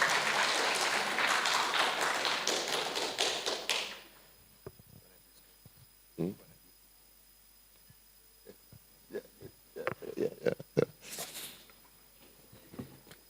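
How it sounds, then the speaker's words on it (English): Audience applause and cheering for a school group taking the stage at a coding competition grand finale and prize ceremony, loud dense clapping for about four seconds, then cutting off to quieter stage sounds, taps and brief mic noises. "Let's make some noise and a round of applause"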